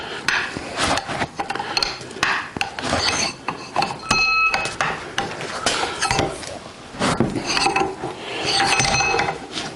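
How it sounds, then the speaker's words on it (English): A Reed 602 vise's Tommy bar is locked down, heard as close metallic scrapes, rasps and clinks of steel on steel in irregular bursts, with one brief ringing metal tone. "Just lock down that Tommy bar."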